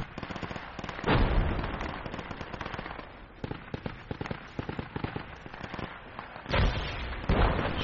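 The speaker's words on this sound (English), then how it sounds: "Yeah, that's mortars." Mortar explosions in the Project Reality military video game, sharp booming blasts landing among crackling rifle and machine gun fire, a few heavy impacts standing out over a constant battle din.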